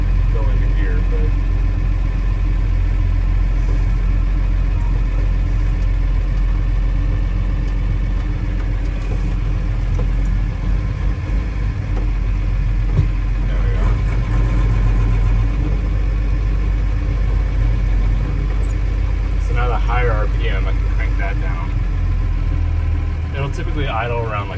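A Unimog U1300L diesel engine idles at close range, a low, even, heavy chug that carries on steadily throughout while someone talks over it.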